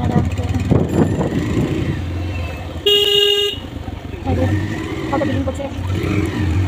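Busy market street traffic with cars rumbling past and a sharp car horn blast in the middle, all under a person talking close by.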